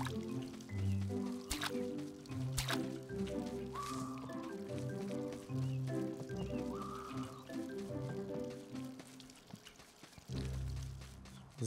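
Water trickles and drips as crops are watered in the farming game Staxel, soft splashes and pours under quiet background music with no talk.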